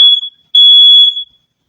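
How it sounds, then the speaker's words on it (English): Smoke alarm beeping indoors: a short, shrill electronic beep, then a longer sustained one after a brief pause. Both are loud and close, with no talking. "Remember, 3 alarms means there's a fire."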